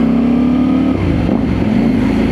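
Motorcycle engine running close by, a steady low throbbing idle with slight changes in revving, heard alone without talk.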